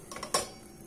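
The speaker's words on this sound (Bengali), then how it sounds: "নেড়ে দেওয়ার পর আমি ঢাকনা দিয়ে ঢেকে দেব" A metal lid set down on a pan while patishapta pitha cooks, a couple of light clinks followed by one sharp clatter close by, brief and with no talking.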